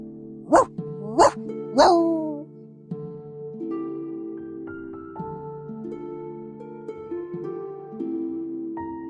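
A cartoonish puppy in the 1999-set video game Reverse: 1999 gives three loud, separate barks in quick succession, followed by soft, gentle music that plays alone.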